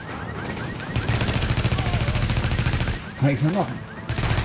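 Gunfire in The Division video game, a steady rapid stream of automatic shots throughout, with a German voice talking briefly over it near the end.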